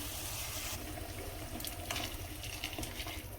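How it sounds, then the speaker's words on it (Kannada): Hot water poured from a vessel into a pot of washed rice for vegetable pulao, a steady close splashing pour running the whole time with no talk. "ಬಿಸಿ ನೀರು ಹಾಕ್ತಾಯಿದ್ದೀನಿ."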